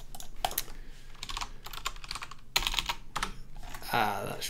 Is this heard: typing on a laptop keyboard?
yes